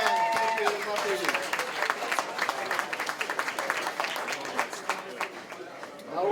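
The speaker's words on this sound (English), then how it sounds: "How about a big round of applause for Muffy Dickinson on the piano?" Applause from a crowd, steady clapping that builds briefly and then tapers off toward the end.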